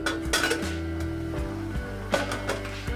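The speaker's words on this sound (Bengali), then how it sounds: "1 মিনিট পর আমি ঢাকাটা খুলে দিচ্ছি।" A metal lid is lifted off a cooking pot of spinach and mixed vegetable curry. Close, ringing clanks and clinks of metal on metal come in two clusters, with a resonant tone lingering between them.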